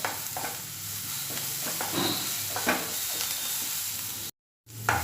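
Onions fry over a high flame in a pan while being stirred. A steady close sizzle runs under soft scraping strokes, with no talk, and the sound cuts out briefly near the end.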